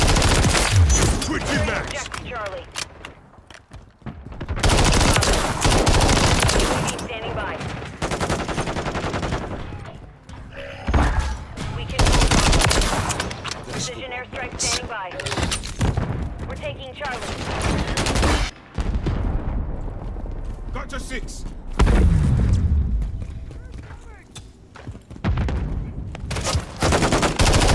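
Gunfire in the video game Call of Duty, with dense, loud machine-gun bursts and fusillades that run almost nonstop and pause only briefly, while players shout over the shooting.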